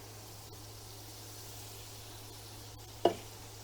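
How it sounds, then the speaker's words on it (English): Melted butter sizzles in a pan for a Cacio e Pepe sauce with black pepper being tossed in: a faint, steady hiss with one short, sharp tap near the end and no talking. "Once our butter gets all melty, we toss the pepper in."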